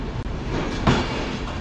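Passenger train from Iași rolling along the rails, a continuous rumbling clatter with a brief sharper rattle partway through, heard alone without speech.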